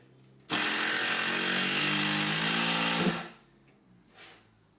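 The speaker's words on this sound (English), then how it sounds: "we're going to whack a few screws in there. Where the joist is." A power tool drives screws into a floor joist during a small bedroom renovation, a loud steady whirring burst lasting about two and a half seconds before cutting off, with quieter room noise after.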